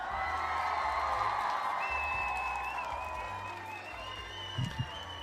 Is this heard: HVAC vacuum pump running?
no